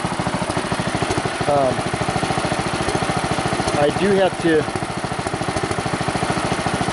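A Bolens Husky Gold Edition 600 lawn tractor engine idles with a steady, close chugging rhythm, while a voice speaks briefly over it.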